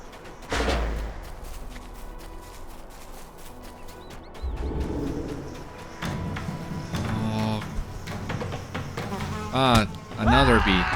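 Bees buzz in the fantasy online game LOTRO, their drones rising and fading over game effects and clip-clopping, with a few chirps and whooshes.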